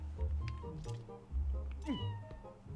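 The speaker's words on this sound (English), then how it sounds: "What do you kitties want?" Cats in Zelda Twilight Princess give a few short meows, one sweeping down sharply, over low game music and background hum.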